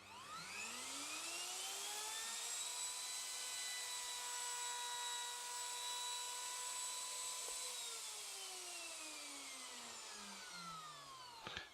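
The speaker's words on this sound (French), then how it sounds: "J'utilise ici la jauge de profondeur de la défonceuse pour descendre progressivement jusqu'à la profondeur voulue." A plunge router cutting a mortise in a wooden workpiece clamped at one end, its high motor whine rising as it spins up, holding a loud steady pitch while cutting, then winding down toward the end, no voices.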